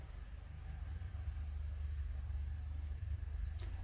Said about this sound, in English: there's a car out there